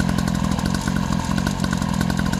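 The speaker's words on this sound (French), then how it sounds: "Faites-le tourner un petit peu au ralenti pendant quelques minutes." A brand-new quad bike engine idles steadily on its very first start, a loud, continuous mid-pitched chug with a slight clatter throughout, no voices over it.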